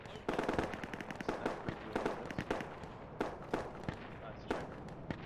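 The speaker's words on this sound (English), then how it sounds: "they've got a machine gun nest looking at us as well" Machine gun fire rattles in Project Reality, sharp irregular bursts and single shots at mixed distances, some close and loud, others fainter, over a busy battlefield background.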